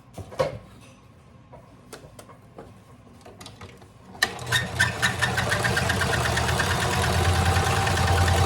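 A sewing machine stitches cloth, starting after a few scattered clicks and knocks with a fast, steady mechanical rattle that continues loud and close to the end.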